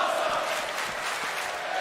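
A wrestling crowd at the XFW Wrestle War event chants "this is awesome" as one dense, steady roar of many voices that fills the arena without a break.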